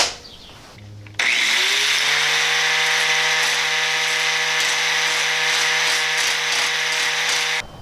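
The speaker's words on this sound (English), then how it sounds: "Just grind that rivet out, get rid of that little piece there, that's excess." Power tool whirring steadily on a bicycle frame as a rivet is ground out, kicking in loud after a brief pause and running continuously with a high, even whine and faint rattling texture until it stops.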